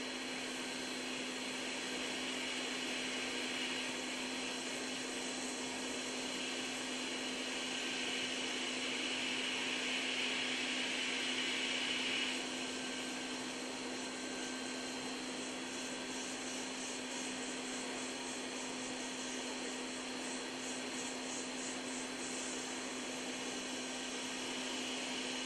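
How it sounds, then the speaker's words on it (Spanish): A hot air soldering station blows steadily onto a capacitor on a mobile phone circuit board, a constant airy whoosh with a fixed low hum beneath, running unchanged for the full stretch without any talk. "vamos a soldar el condensador que hemos extraído de la otra placa"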